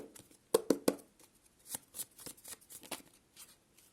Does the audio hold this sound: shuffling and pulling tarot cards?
yes